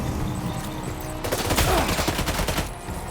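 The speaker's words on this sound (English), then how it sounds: "Oh, I hear gunshots." Burst of gunfire in the video game Death Stranding 2, a quick volley of shots kicking in after a quieter stretch and rattling on under game music, loud and close, then trailing off.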